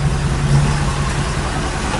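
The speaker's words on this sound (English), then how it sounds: "I'll leave the engine running for the moment while I show you this." A box truck's engine idles steadily in a low, constant drone with a faint hum on top, running close and loud throughout while the house batteries charge.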